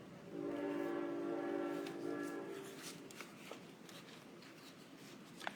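A train sound effect plays during a live online event, a sustained horn-like harmonic tone lasting about two seconds, followed by faint clicking rail clatter.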